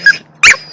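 A dog being carried outdoors lets out two short, high squeaky whimpers close by, separated by a brief pause, after spotting a small critter.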